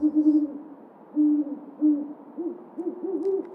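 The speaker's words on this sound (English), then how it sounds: "I used an owl" An owl recorded outdoors near a home hoots repeatedly in low, wavering calls, a few spaced hoots followed by a quicker run of trilled notes, clear and alone.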